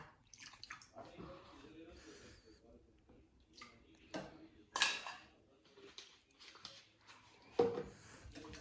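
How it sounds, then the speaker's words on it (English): Caramel pudding batter with vanilla is whisked in a bowl, giving intermittent wet sloshing and clinks of utensil against the bowl. Bursts are moderately loud and irregular, with a voice speaking between them. "I just want to mix it very well."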